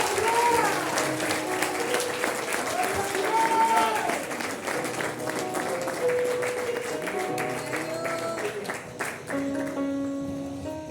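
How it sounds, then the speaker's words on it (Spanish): A church congregation claps steadily and enthusiastically, sustained applause filling the room while voices call out over it. "Den un fuerte aplauso"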